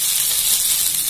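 Spicy adai batter frying in oil on a pan, a loud, steady sizzle and hiss heard up close and alone for about a second.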